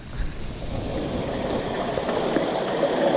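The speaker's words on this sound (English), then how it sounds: "In front of the waterfall." Water pours steadily from a waterfall into a flowing stream on a trail, a constant broadband rush, fairly loud and close, with no talk over it.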